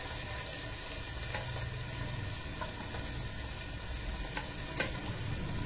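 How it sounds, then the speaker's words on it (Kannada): Sliced onion frying with ginger garlic paste in a pan for fried rice, a steady close sizzle with a few faint stirring clicks and no talking. "ಇದೆಲ್ಲ ತುಂಬ ಫ್ರೈ ಆಗಬಾರ್ದು, ಸುಮ್ಮನೆ ಹಂಗೆ ಹುರ್ಕೋಬೇಕಷ್ಟೇ"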